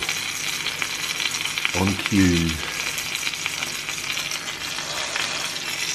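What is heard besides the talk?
flounder sizzling in a frying pan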